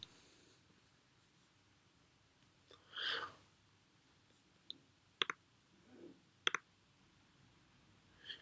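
Computer mouse clicking, a few sharp isolated clicks including a quick double click, close and quiet in an otherwise still room.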